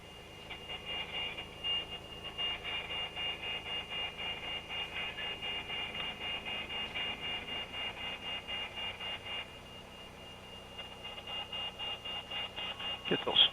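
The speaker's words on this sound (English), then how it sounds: "That noise you hear in the background is the ground environment or airport environment that comes with this add-on airport." Steady ground environment ambience at an add-on airport in X-Plane 11, Denver KDEN, a continuous mid-pitched hum and whir with faint repeating beeps, running evenly throughout before a brief louder burst at the end.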